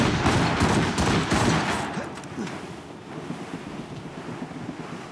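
Cannon volley from a ship in Assassin's Creed Rogue: a dense burst of overlapping booming shots at the start, rolling away into a long wind-and-sea roar with a rumbling tail.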